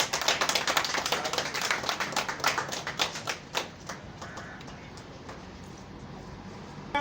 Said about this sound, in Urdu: وہ ہمارے صالح شیدی صاحب کو جو ہے وہ آپ کی زوردار تالیوں میں ہار بنائیں گے